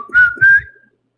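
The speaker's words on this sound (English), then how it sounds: "I like to whistle." A person whistles two short rising notes close up, a clear tone over faint breathy noise, then silence.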